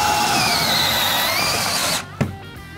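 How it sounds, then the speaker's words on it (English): A power drill with an auger bit bores through a wall plate in an 1880s farmhouse, a loud, steady whine for about two seconds before the motor cuts off with a brief thump. "in order to bring this wire down, we do have to go through the plate. Drilled my auger bit here."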